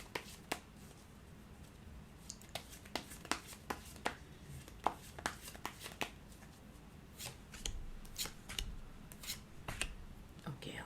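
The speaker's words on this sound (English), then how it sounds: "I just want to pull out few cards" Tarot cards are pulled from a deck and handled in a quiet room, making soft irregular snaps, flicks and shuffling rustles at close range, with faint voice sounds in between.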